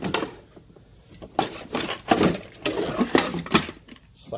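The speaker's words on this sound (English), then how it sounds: "Slide the tray back." A metal tool box tray slides back into place, giving a few short rattling, clattering bursts of metal parts shifting, separated by brief pauses, close by.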